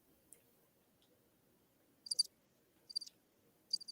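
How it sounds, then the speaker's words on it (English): Cricket chirping sound effect: three short high trilling bursts spaced about a second apart, faint and alone over a quiet low background. "Crickets."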